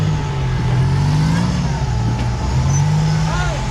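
A rock crawler off-road vehicle drives a W.E. Rock Sportsman A Class competition course, its engine a loud steady low drone that rises and dips with throttle, heard up close throughout.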